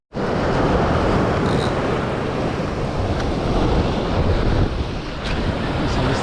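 Sea waves at a fishing spot crash and wash in a continuous loud roar, mixed with heavy wind buffeting the microphone, with no voices.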